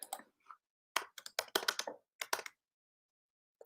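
Quick clusters of crisp keystrokes on a computer keyboard, close and fairly quiet, coming in short bursts with brief pauses and no talking.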